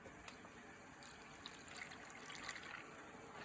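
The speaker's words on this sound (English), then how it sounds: "And we're gonna add half a cup of water." Half a cup of water is poured into an Instant Pot, making a soft, continuous splashing trickle that stays faint and even throughout, with no voices.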